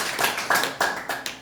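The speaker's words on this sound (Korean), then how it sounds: "우리 조물주께 박수 한번 보내주시려면" A lecture audience claps in a quick, evenly spaced rhythm of about five sharp bursts, fairly close and moderately loud, with no talk over it.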